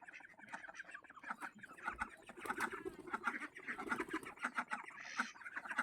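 Ducks let out of their shed in a village courtyard quack and cluck repeatedly near at hand while being fed paddy rice, a busy overlapping chorus of short calls with chickens among them.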